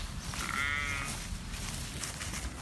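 Lambs bleating in a field where they are being checked for foot scald, a single wavering cry rising clearly over steady outdoor wind and background noise.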